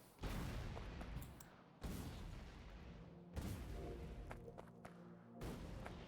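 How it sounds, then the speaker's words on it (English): Grenade explosions in the game Factorio, four loud booming blasts spaced roughly every one and a half seconds, each with a rumbling decay, with no talking. "Grenades at least help me figure out what rocks can be destroyed and what rocks are just, you know, rubble on the ground"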